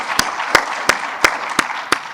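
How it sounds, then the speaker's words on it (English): Audience clapping at a conference plenary session, six crisp, evenly spaced claps ringing out close and distinct rather than a dense wash of applause. "Big hand clap, please."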